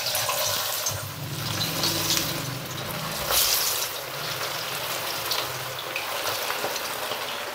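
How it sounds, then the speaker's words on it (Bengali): Marinated chicken wing pieces go into hot oil with a loud, close, continuous bubbling sizzle. It swells and settles over several seconds with splashy surges, and no voices are heard. "এবার আমরা চিকেনের পিসগুলোর মধ্যে দিয়ে দেবো"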